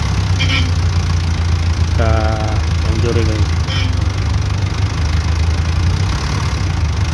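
A jeepney engine runs at a steady low idle throughout, a constant mechanical drone with someone talking over it in short phrases.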